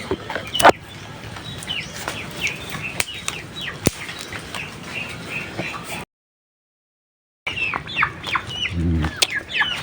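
Native chickens cluck and squawk repeatedly in a busy farmyard, with wings flapping near the start and a steady chorus of fowl throughout, briefly cut off midway.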